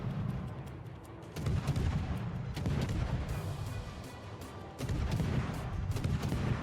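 Guns of the Tier X premium French destroyer Marceau firing salvos in the naval battle game World of Warships: loud, repeated booming shots over a continuous heavy rumble, with no talking.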